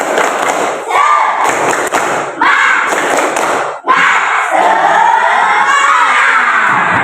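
Schoolchildren in a classroom shout the rhythmic tepuk semangat chant together, loud and near, with bursts of group clapping and thumps in a patterned rhythm, split by short pauses.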